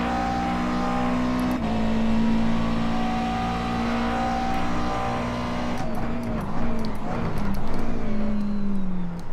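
McLaren race car engine in the iRacing video game at Sebring, droning steadily with throttle modulation, pitch dipping and wavering near the end as the car loads through a corner, loud and close with no talk.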